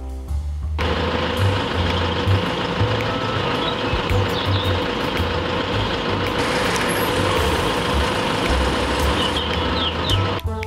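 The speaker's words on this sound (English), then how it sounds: "Now we're going on the tractor." Farm tractor engine rumbling steadily and loud throughout a ride, with a constant low drone and mechanical clatter, no talk.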